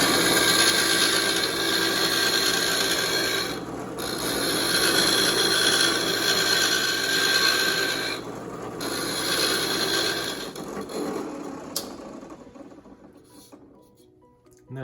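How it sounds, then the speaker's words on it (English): A drill press runs while boring slowly in circles into wood for a DIY hose holder, a steady mechanical whir and grinding hum with brief dips, fading out near the end. "we turn the drill press on, just go around in circles slowly"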